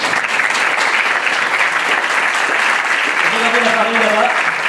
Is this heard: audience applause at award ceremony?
yes